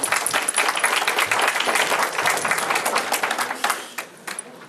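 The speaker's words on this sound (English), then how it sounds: "I want to give you a round of applause." An audience at a church self-defense workshop for teenage girls applauds, a dense burst of clapping that thins out and fades to scattered claps near the end.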